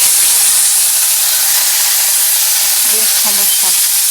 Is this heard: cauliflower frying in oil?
yes